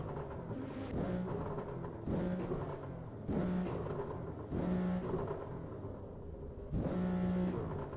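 A BMW M3 engine revs hard to high RPM in repeated bursts, about five loud surges that each rise and then fall back. The car is heard from up close, with no voices over it.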